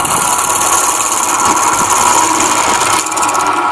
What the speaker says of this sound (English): Drill straight through that casing